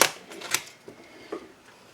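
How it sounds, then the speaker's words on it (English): A sheet of vinyl is trimmed by hand for stencil-making, giving a few sharp, crisp cutting snaps and rustles, close and fairly quiet, spaced irregularly with no talking. "I'm just going to trim this off, actually, right here real quick"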